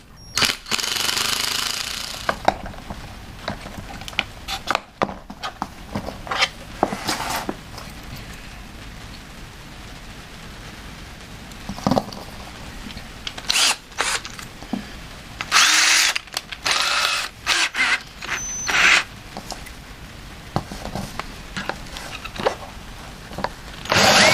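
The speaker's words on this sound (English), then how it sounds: "I thought it would be easy to bore that out." A power drill boring out a small metal part, in short loud bursts broken by pauses and knocking of the tool, with no talk.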